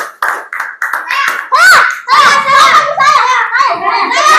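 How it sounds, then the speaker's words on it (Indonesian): Classroom children clapping in short, uneven bursts for a classmate during a lesson, mixed with excited children's voices and chatter close by. "Luar biasa, tepuk tangan untuk Miftahul"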